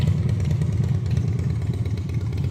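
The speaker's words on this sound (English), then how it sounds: "here comes a motorcycle" A motorcycle engine rumbles steadily past a Dodge Charger Scat Pack being detailed, a loud, continuous low drone with a slight clatter lasting a couple of seconds, with no voices.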